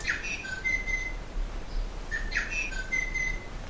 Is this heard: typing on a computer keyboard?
no